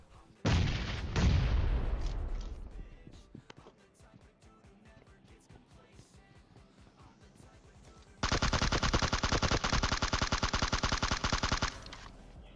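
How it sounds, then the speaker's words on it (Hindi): PUBG Mobile gunfire: an explosive burst, scattered single shots, then a long sustained stream of rapid automatic fire. "चालीस गोली चलाई यहाँ पे उसमें से बस एक गोली लगती है बंदे के"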